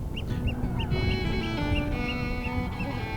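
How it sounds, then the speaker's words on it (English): A pair of gulls call on a river in a run of regular, evenly spaced honking cries over a steady low background hum. "These 2 gulls are declaring their love for each other."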